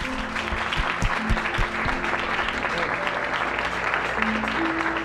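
A church congregation claps in praise, a dense, sustained round of applause at close range with a few louder claps standing out and tonal sounds running beneath.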